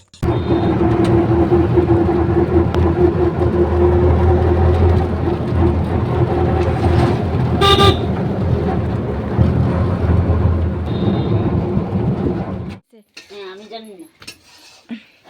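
A loud, rattling engine rumbles steadily during an auto rickshaw ride, then abruptly drops away, leaving quieter scattered noises.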